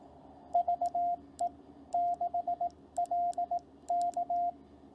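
Crisp Morse code beeps at one steady pitch, short and long tones grouped into characters of the call sign VE6LK, heard clearly with no voices.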